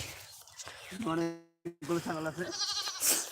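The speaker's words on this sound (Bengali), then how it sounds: "এই যে কিন্তু অনেক ছাগল এই যে দেখছেন" A goat gives one quavering bleat in the middle, briefly cut off by a sharp break, with other goats among a herd nearby and a person talking around it.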